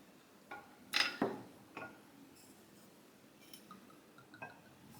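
Basil Hayden small batch bourbon poured into a glass, heard as a few faint, scattered drips and clinks against the glass in a quiet room, with short soft trickles between them.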